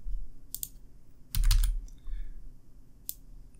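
Computer keyboard typing while deleting code, a few short bursts of keystrokes separated by pauses, close and fairly quiet with no talk.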